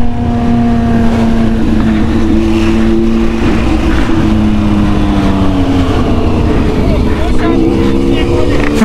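A motorcycle engine running steadily at close range, a loud continuous droning hum with shifting engine tones, with someone talking over it.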